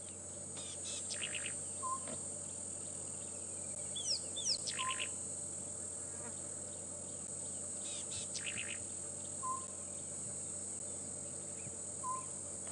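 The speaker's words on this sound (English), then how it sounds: "the birds are really giving us a great show this afternoon in terms of the calls we can hear" Birds call and chirp on an afternoon safari drive at Djuma and Arathusa, with scattered high tweets and short whistled notes over a faint, steady insect and cricket drone in open bush.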